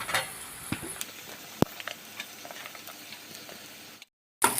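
Chopped carrots added to onions in a pan sizzle quietly, with a few clinks and stirring knocks, then the sound cuts out briefly before resuming.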